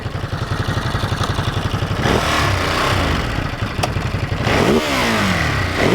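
A Ducati Monster middle-weight naked motorcycle engine pulses at a fast, loud idle, then revs hard and repeatedly against a soft limiter, with crackling bursts as the throttle closes, heard close up.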